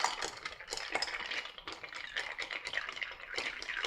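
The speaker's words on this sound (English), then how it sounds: "we'll stir our cocktail down" A Manhattan cocktail is stirred in a glass over a big rock of ice, making a continuous, close, rhythmic tinkle of spoon and ice swirling against the glass, with no voices.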